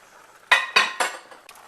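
Bella mushrooms and onions being spread around in a pan with a utensil, giving three close, distinct scraping clinks in quick succession followed by a faint softer tap.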